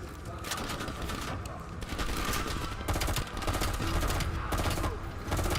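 Rapid bursts of automatic gunfire aimed at a bomb in Call of Duty: Black Ops Cold War, dense and loud, firing in repeated clusters with brief gaps between volleys.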